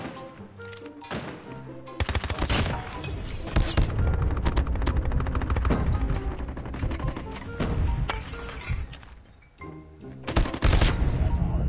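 Dense, rapid gunfire in a shooter video game, bursts of automatic shots stacked close together and loud, with a voice talking over parts of it.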